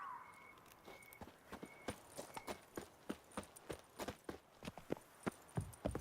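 Roach's hooves clip-clop in The Witcher 3: Wild Hunt, a quick, even run of hoof strikes on hard ground with no speech.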